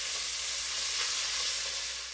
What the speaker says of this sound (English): Now we want this bacon to cook until it's crisp and it's rendered all of its fat.